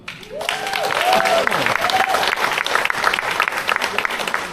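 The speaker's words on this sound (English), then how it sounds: "let's give a round of applause for our first winner, Vindula." Loud, continuous applause rises from the audience at a fire department CERT volunteer appreciation event as an award winner is announced, with a few whoops and cheers over the dense clapping.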